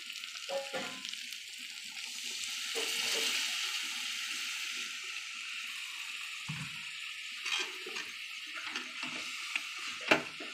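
Water poured into a pan of green chicken curry that has been fried until the oil separates, giving a steady close sizzle and bubbling hiss with a few brief splashes and clinks, no talk.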